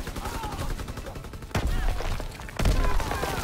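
Heavy gunfire in a Call of Duty WW2 battle: sustained rattling bursts with two sharp, louder booms, dense and close, while a voice occasionally shouts beneath the shooting.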